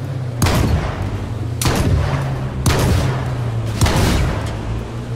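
Gunfire in the H1Z1 battle royale game, four loud heavy shots spaced about a second apart over a steady low engine-like hum, close and punchy with no talk.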